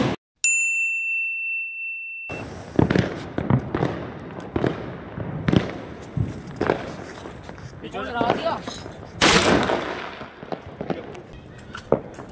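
Sky shot fireworks go off during a family Diwali celebration, a quick sequence of sharp nearby pops and cracks after a brief ringing tone at the start, with people talking around them.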